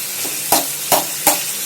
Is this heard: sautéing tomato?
yes